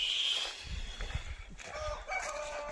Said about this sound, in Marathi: ह्या आपल्या कोंबड्या आहेत